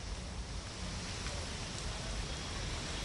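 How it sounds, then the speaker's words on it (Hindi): Monsoon rain falls steadily over Delhi, a dense even hiss that carries on without a break for the whole stretch, with no voices over it. "इस बीच आज मानसून की ये बरसात राहत की फुहारें लेकर जरूर आई।"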